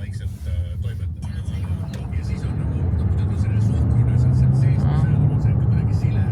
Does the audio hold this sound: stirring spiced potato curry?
no